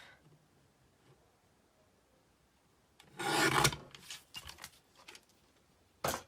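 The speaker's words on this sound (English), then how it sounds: "Let me just grab out my guillotine. Easiest way to trim just a slither off." Paper guillotine slicing a thin sliver off a scrapbook mat: one loud rasping cut of about a second, a few softer scraping rustles, then a brief sharp swipe at the end, close and alone in a quiet room.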